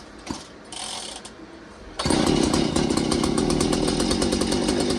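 A Poulan 3400 Countervibe chainsaw with a freshly cleaned, previously gummed-up carburetor is pulled once, with a short sputter, then fires and runs steadily and loudly at close range, engine roar continuing without pause.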